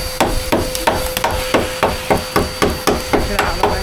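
A hammer strikes the metal walls of a bus being gutted for a home conversion. About a dozen loud, sharp blows land close by in a quick, even rhythm, with no talking.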